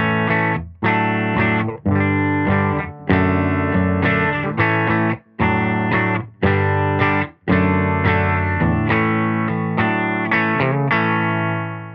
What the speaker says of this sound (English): The amp that I'm running into is a Silktone amp, and it sounds like this